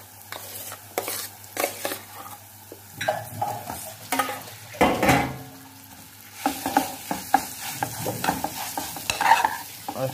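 A spoon stirs spiced potato masala with salt in a hot pan, producing irregular scraping and clinking strokes over a low sizzle, close and fairly loud with pauses between bursts.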